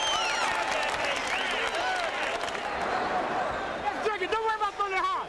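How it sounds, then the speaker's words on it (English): A boxing arena crowd roars and applauds as a round ends in the Kostya Tszyu versus Sharmba Mitchell fight, a broad wash of cheering and clapping beneath a commentator's voice, with other voices breaking in near the close. "The crowd behind Sharmba Mitchell as round 4 ends"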